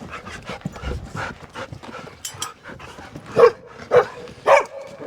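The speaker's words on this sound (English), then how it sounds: "the dogs are very excited to go for a swim" Excited farm dogs heading for a swim in a dam on a warm day pant and shuffle close by, then let out three loud, sharp barks spaced about half a second apart.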